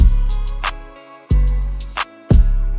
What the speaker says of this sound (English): I added this crash right here just to mark every time the verse or the hook starts.